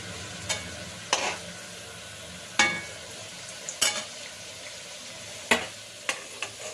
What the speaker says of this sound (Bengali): আমি সবসময় আলু নুন হলুদ দিয়ে ভেজে নিই